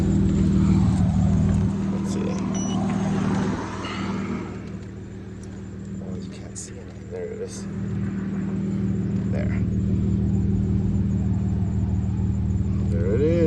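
A 2011 Dodge Challenger engine idles steadily with a low rumble during an emissions test, fairly loud and continuous while someone talks over it.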